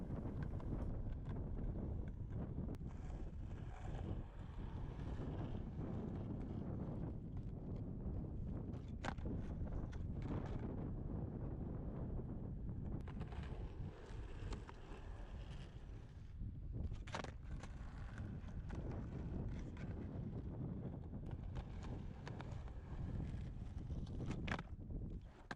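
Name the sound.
strong wind blowing into the microphone outdoors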